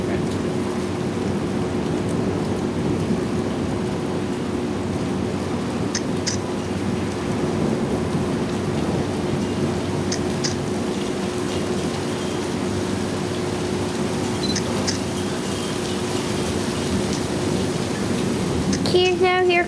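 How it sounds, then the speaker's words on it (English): Heavy torrential downpour during a lightning storm, a dense, constant roar of rain hammering down close by with low rumbles of thunder beneath, carrying on unbroken for the full stretch. "Here comes a torrential downpour."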